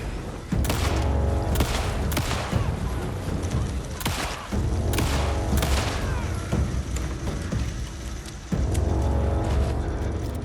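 Rapid bursts of gunfire and heavy booms in the video game Alan Wake 2, loud and dense throughout, with brief lulls and shouted voices mixed in.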